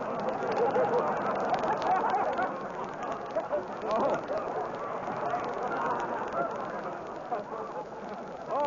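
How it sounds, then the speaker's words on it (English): A flock of ducks quacking and honking as a sound effect on a 1940s comedy radio show, a busy, overlapping chatter of calls that stays dense throughout. "he shot a flock of ducks"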